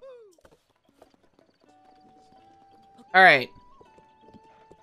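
A horse in The Legend of Zelda: Breath of the Wild gives one loud, brief whinny midway, with faint hoof clops and steady game music around it, while a person speaks briefly.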